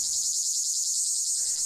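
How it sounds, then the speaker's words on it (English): Cicadas drone in a loud, continuous high-pitched buzz that holds steady throughout, with a faint low background rumble briefly dropping away in the middle. "Cicada chaos,"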